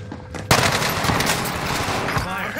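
Cooper SMG fired in Warzone on Rebirth Island, a sudden loud, close burst of rapid automatic gunfire that rattles steadily for about two seconds.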